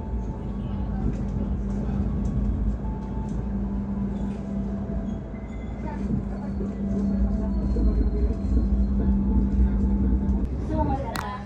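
The Malabar executive train runs from Bandung to Malang, a steady low rumble and hum of the carriage in motion with faint clatter, heard from inside under quiet background voices.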